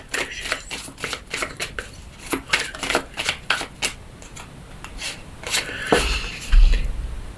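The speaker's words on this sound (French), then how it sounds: "On va voir avec la coupe et ses cartes quel message Mademoiselle Lenormand a nous donné." Lenormand oracle cards being cut and shuffled by hand, giving close, crisp riffling and brushing bursts in an uneven rhythm, with a soft thump near the end.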